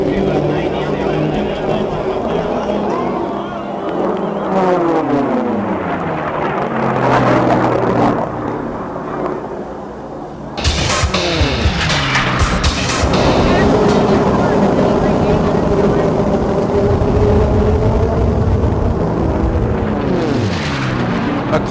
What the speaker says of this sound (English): run that big radial engine at top speeds